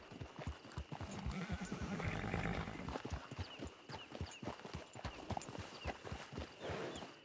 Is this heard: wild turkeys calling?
no